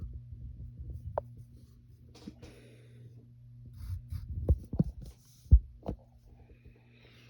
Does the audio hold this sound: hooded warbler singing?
no